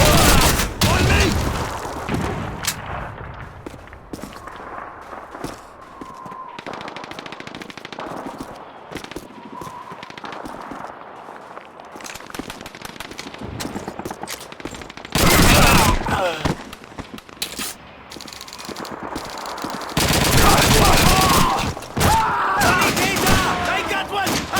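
Heavy sustained machine gun and rifle fire in Call of Duty 2, loud near bursts rattling continuously with sharper volleys toward the end, mixed with shouting voices in the background.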